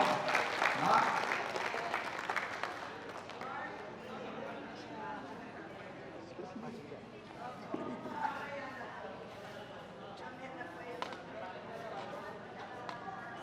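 A crowd applauds new members at a 54th grand reunion of the 1971 high school batch. Clapping swells briefly at the start, then fades under steady talking through the rest of the clip.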